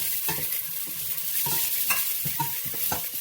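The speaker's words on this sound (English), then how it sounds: "I'm just going to start out with some peppers and onions." Peppers and onions sautéing in a hot pan, a sizzling hiss broken by repeated scraping stirs of a utensil against the pan, close and fairly loud, with no talking.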